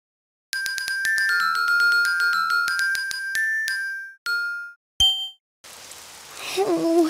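Cartoon rain falling outside, a short burst of hissing patter that follows a bright chiming, tinkling jingle, with a voice starting to speak over the rain near the end.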